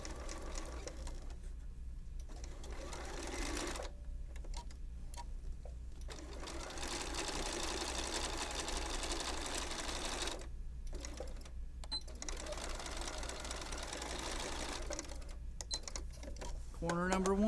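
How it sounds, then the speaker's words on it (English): A home sewing machine stitches the corners of a fabric zipper bag in several short, steady whirring runs broken by brief pauses, with a voice talking quietly between bursts. "You don't want to baste these corners, you want to sew them."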